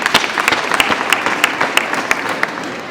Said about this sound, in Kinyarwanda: Mwabanza mukaniza amashyi tukabashimira.